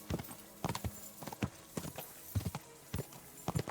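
Horse hooves clip-clop at a gallop in Kingdom Come: Deliverance 2, a fast, uneven run of sharp hoof strikes, fairly close and with no talk over it.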